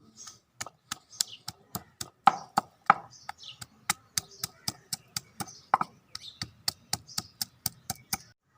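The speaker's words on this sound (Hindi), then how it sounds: "सब्ज़ मिर्चें और धनिया बारीक बारीक काट लेंगे।" Knife chopping green chilies and coriander finely on a board, a fast, regular series of sharp close taps with brief pauses, clear and alone.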